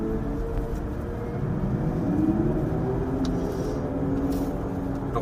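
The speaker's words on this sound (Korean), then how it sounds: "제가 여기 신호가 바뀌면은 한번 쭉 가속을 해보면서 말씀드리겠습니다." Volkswagen ID.4 electric car accelerating hard from a traffic light, heard from inside as a steady broadband road and motor rumble with a faint rising whine, continuous and fairly loud with no talking.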